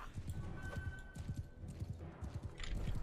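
Horse hooves gallop in Mount & Blade II: Bannerlord with a quick, steady clip-clop rhythm over a busy background of battle noise.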